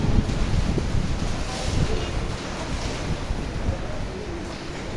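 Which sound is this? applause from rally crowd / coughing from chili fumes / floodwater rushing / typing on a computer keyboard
floodwater rushing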